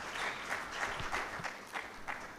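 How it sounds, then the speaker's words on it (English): Audience clapping at a regional agroecology summit in Uganda, a steady mass of hand claps filling the room with some louder individual claps standing out, continuous and fairly close. "Clap for her."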